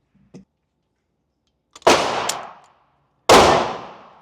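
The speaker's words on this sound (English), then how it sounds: "So let's reload." Sig Sauer P320 Flux Legion pistol reloaded: a faint click, then two loud, sharp metallic snaps about a second and a half apart, each ringing out briefly, with no talking.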